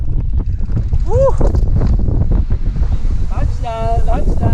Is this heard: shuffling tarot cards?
no